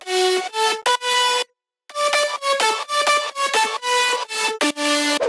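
Layered future house synth lead with a whistle layer plays a bright, bouncy staccato melody of short plucked notes with sidechain pumping, loud and upfront, with a brief gap early on and no talk.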